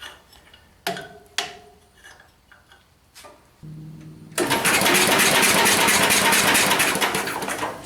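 A 1977 MTD 990 mower engine with no spark is cranked after a few clicks and clunks, its starter whirring into a loud, steady churning drone that carries on without catching.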